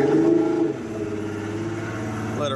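A Ranger RT198P bass boat's outboard engine runs at a fast idle on flush muffs, a steady droning hum with a slight dip in level early on and people talking over it.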